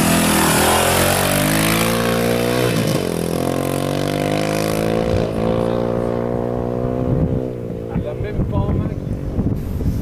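A motorcycle rides through sand, its engine loud and close, revving up through gears in rising surges. Wind buffets the microphone throughout.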